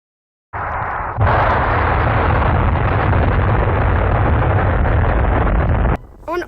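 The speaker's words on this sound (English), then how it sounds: "a rupturing noise scared people nearby, and that was the sound of the infamous rocket Venera 7" The 1970 launch of the Venera 7 rocket comes through as a sudden, loud, sustained rumbling roar that starts abruptly and holds for several seconds before cutting out, followed by a short burst of noise.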